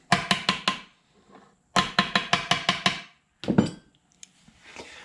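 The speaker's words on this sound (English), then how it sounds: "so just use our hammer" Sharp metallic hammer taps in quick bursts, a group of four, then six, then a few more scattered strikes, close and crisp, driving a seal into a Dana 300 transfer case from a 1980 Jeep CJ5.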